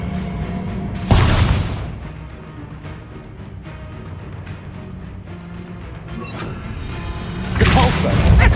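Confringo explosion spells go off in Hogwarts Legacy on PS5: two loud, heavy booming blasts, one near the start and one at the end, with quieter game sounds and rumble between them.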